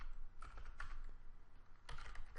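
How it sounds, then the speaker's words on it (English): Someone types on a computer keyboard, two quiet close bursts of rapid key clicks separated by a short pause, with no voices. "what I want to do is I'm going to type"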